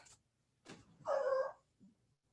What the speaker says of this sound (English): Sorry about my dying dog here in the background.